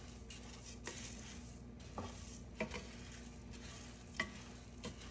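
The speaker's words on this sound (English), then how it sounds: "Just put it in the pan and then start roasting it." Coriander seeds and peppercorns dry roasting in a pan on medium heat make a soft, steady hiss with repeated scraping stirs and a few faint rattles, quiet and without talk.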